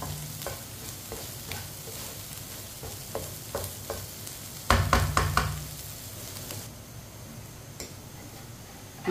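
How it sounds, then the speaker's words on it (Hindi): A spoon stirs eggs and okra frying in a pan, scraping and tapping in a steady rhythm over a soft continuous sizzle, with a burst of louder clattering strokes midway. "मिनट के लिए पका लेना, ऐसे ही चम्मच चलाते हुए। अंडों को अच्छी तरह पकाना है।"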